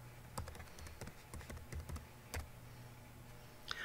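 Quick, uneven keystrokes tap on a computer keyboard at close range, a run of light clicks with brief pauses, with no talking over them.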